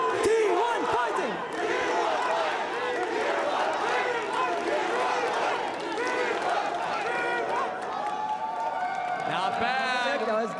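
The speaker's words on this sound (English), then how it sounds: "So let's hear it from the crowd. T1 fighting!" Esports arena crowd at a League of Legends quarterfinal chanting a team cheer, loud and continuous, with rhythmic massed voices and cheering filling the whole stretch.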